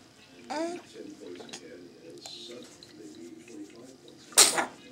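Young child sneezing indoors, a sharp, bright burst near the end following quieter household noise and soft voices talking in the background.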